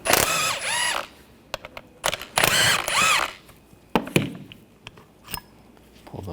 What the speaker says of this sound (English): Use a 14mm socket. Take these slide pin bolts out.